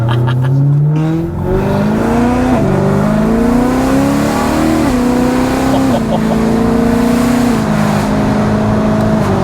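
A BMW E92 M3 with its exhaust valves open revs hard and loud, the engine note climbing and dropping through repeated downshifts from third to second with booming blips, while voices talk faintly underneath.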